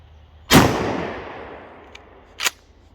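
A 9mm hollow point round fired into ballistic gel gives one sharp, loud gunshot with a long decaying echo, followed by a fainter second crack about two seconds later.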